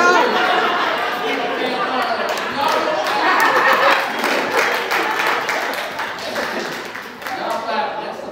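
Comedy club audience at a stand-up showcase clapping and chattering together, a dense steady wash of applause mixed with crowd voices and laughter.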